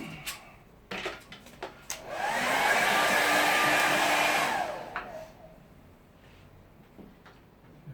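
Hair dryer blowing on a watercolour painting of a late afternoon scene, a steady loud whoosh swelling up for a few seconds then cutting off, with brushy knocks and rustles around it.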